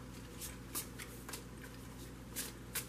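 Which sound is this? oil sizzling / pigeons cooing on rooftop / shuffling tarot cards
shuffling tarot cards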